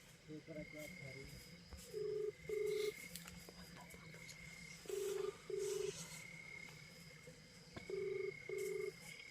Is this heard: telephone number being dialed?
yes